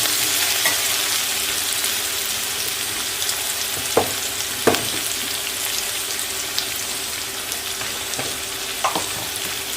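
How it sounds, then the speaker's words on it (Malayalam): Onions frying in oil with curry leaves and black pepper, a dense continuous sizzle with a few sharp utensil taps against the pan, close and steady, no voices. "ഉള്ളി മൂത്ത് തുടങ്ങി"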